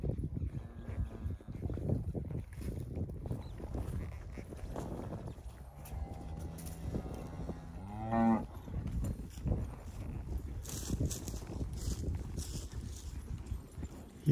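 A red brockle-faced cow moos near at hand among cattle and young calves on a spring range, one loud drawn-out call standing out midway over steady outdoor background noise.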